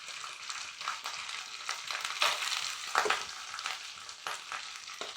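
Boiled rice tossed into hot oil for ghee rice fries with a soft steady sizzle, broken by intermittent stirring scrapes and small bursts.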